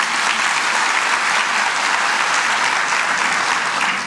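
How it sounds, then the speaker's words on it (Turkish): An audience at a corporate tax seminar claps together in steady, full applause, loud and continuous from start to finish with no one speaking. "Bu eğitime verdiğiniz destek için sizi yürekten alkışlıyor sevgili arkadaşlarım."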